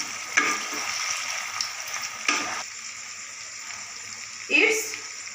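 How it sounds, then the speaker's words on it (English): Spices and vegetables fry in a pan for shukto, a steady close sizzle with a few sharper bursts of stirring and scraping, the loudest near the end. "Mixed well all the spices and fried vegetables for 5 minutes."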